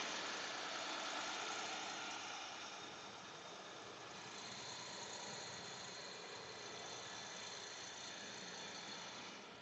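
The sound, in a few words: truck engine while driving on a highway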